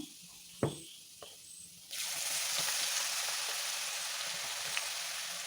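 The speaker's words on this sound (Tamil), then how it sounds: "எண்ணெய் நல்லா சூடாயிருச்சு பெருஞ்சீரகம் போட்டுடலாம்" A sudden, steady broadband sizzle as fennel seeds hit hot oil for Kerala chicken peralan, preceded by a couple of light clinks, then a continuous crackling hiss with occasional pops.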